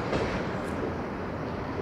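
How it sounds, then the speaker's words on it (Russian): A long freight train rolls past near the sea, a loud, continuous close rumble of wagons with steady rail noise throughout. "Вот такой длинный состав. Хочу, чтобы конец увидели вы, пока он не заканчивается."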